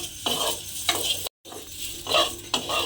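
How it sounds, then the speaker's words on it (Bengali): Flour dough balls for moydar payes stirred in hot ghee in a pan: soft sizzling under repeated scraping stirs in a loose rhythm, with one brief silent cut partway through. "গোল্লাগুলো আমি একটু নাড়াচাড়া করে ঘিয়ের মধ্যে ভেজে নিয়েছি"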